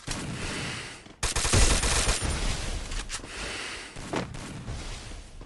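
Bursts of rapid gunfire in the video game Free Fire crackle loudly, mixing automatic fire and sharp single shots in a chaotic exchange, with no voices.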